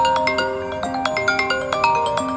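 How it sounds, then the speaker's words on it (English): A phone ringtone plays close and loud, a quick repeating melodic pattern of bright tones chiming alone with no talking. "phone ringing when she least expected it"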